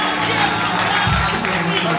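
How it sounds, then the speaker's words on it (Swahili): Worshippers in a church applaud for Jesus with sustained crowd clapping, a thick steady patter from many hands, mixed with scattered voices and light cheering. "Makofi tena kwa Yesu."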